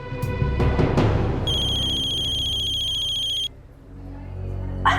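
A telephone rings late at night in a household, its electronic ringtone trilling steadily for about two seconds before cutting off, with room sounds before and after.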